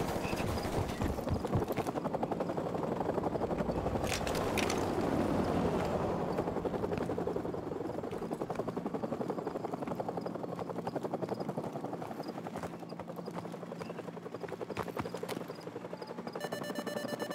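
A helicopter in the Call of Duty Modern Warfare Remastered video game drones loudly with a fast rotor chop, steady and close through the whole span, with a couple of sharp metallic clanks early on and no talk.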